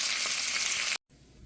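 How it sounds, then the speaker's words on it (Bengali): Salmon with asparagus and jalapeño peppers shallow frying in a pan, a loud, dense, even sizzle that cuts out abruptly near the end, leaving only a faint low hum. "আমি সালমনের সাথে কিছু অ্যাসপারাগাস আর হ্যালোপিনো এটা সেলো ফ্রাই করে নেব"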